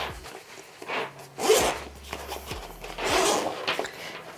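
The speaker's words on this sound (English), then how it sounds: "You've got these lockable zips." Zipper on an Osprey Daylite carry-on travel pack is pulled open in several quick rasping strokes, close and fairly loud, with soft fabric rustling in between.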